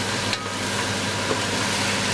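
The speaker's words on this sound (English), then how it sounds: "Let's give this a stir." Stewed green papaya with salted beef stirred in a pot, a steady simmering sizzle with soft scraping strokes, close and continuous for a couple of seconds.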